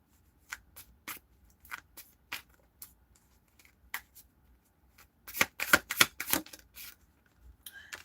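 Tarot cards shuffled by hand, a series of sharp papery riffles and snaps in short separate bursts, then a denser flurry of shuffling, close and crisp in a quiet room.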